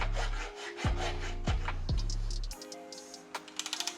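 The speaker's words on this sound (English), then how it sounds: "now I'm just filing down the sharp edges" Hand file rasping along the sharp cut edges of a metal bracket on an old motorcycle, a few close strokes with brief pauses between them, followed by lighter scraping and clicks.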